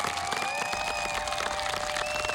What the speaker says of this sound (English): let's have one huge applause for Maestra Sarah